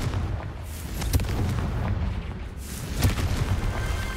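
A Confringo fire spell from Hogwarts Legacy bursts twice with booming, explosive blasts over a rumbling, crackling game soundscape, the second hit landing a few seconds after the first.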